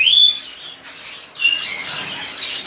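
Parrots and forpus birds in an aviary chirping and squawking in bursts of high calls, fairly near, with a short lull in the middle and no talk.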